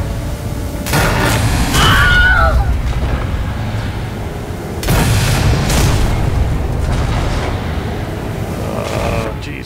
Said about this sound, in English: How about a little pipe bomb?